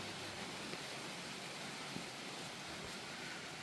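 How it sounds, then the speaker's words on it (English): Rain falling outside a newly roofed house under construction in Ghana, a faint, even hiss of steady rainfall with no distinct drops or voices. "And it's raining today."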